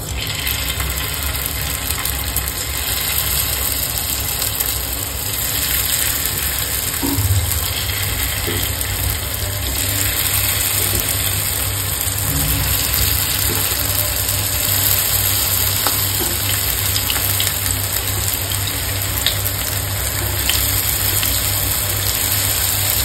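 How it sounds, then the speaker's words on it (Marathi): Paneer shallow frying in hot oil: a loud, steady sizzling hiss that runs unbroken throughout, with a low background hum and no talking. "इथे मी पनीरला शॅलो फ्राय करून घेणार आहे"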